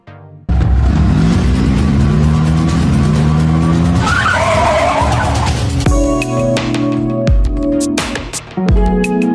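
Car engine roaring loudly as it accelerates, with rising revs and a long screech of skidding tires, then sharp impacts and further tire squeals toward the end; a dramatic chase scene with no talking.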